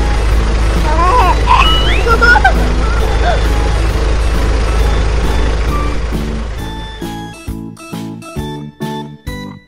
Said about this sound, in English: Shoveling machine.